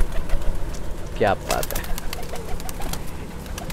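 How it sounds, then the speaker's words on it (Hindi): A Pakistani Nasal Prince Golden pigeon gives a short, close cooing call in two quick bursts midway through. Someone talks steadily over it. "बहुत ही प्यारा कबूतर है दोस्तों"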